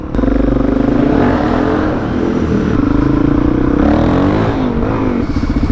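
A learner-approved LAMS motorcycle revs hard at a drag race, its engine a loud, close, continuous throbbing roar whose pitch holds steady, then wavers and dips and rises again over several seconds, with no voices.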